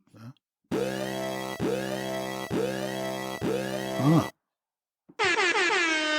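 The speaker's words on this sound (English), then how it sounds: "Yeah, air horn." An air horn sound effect gives loud blaring blasts, four long honks in a row, then a pause and a final burst with a swooping, falling tone.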